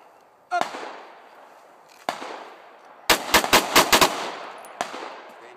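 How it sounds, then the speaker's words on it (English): Rapid string of handgun shots during a pistol training drill with a belly band holster: a single shot, a pause, another, then a quick burst of about six shots and one final report, sharp and close. "Multiple shots."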